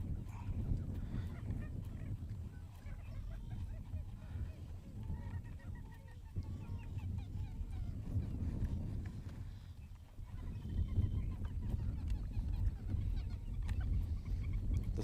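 A dense flock of Florida coots calls continuously on the Harris Chain of lakes, honking, clucking cries overlapping in a steady, fairly loud chorus over low rumbling background noise, with no one talking.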